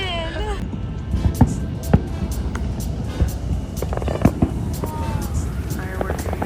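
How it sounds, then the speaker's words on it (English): Fireworks over the water at night in Chicago near Millennium Park, heard as scattered sharp pops and bangs at a distance over a steady city rumble, with people talking nearby. "Fireworks, y'all."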